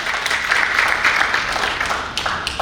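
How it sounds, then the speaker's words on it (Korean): Encouraging applause from an audience at a Korean political session for a floor leader, steady close clapping that holds throughout and thins slightly toward the end. "격려의 박수 부탁드리겠습니다"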